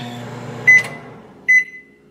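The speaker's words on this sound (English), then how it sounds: "Microwaving done." A microwave oven plugged into an extension cord hums steadily as it runs, then gives two clear electronic beeps about a second apart to signal it has finished.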